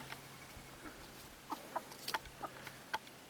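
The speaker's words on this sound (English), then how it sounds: "But chickens are running around free here." Soft, scattered clucks from chickens, a few short calls in the second half over a quiet outdoor background.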